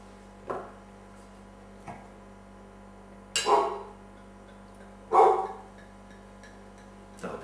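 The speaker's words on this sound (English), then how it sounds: "That'll be the dog in the background wants to be let in." A dog barks in the background, several separate, fairly faint barks spaced a second or two apart over a steady low indoor hum, with a soft tick before them.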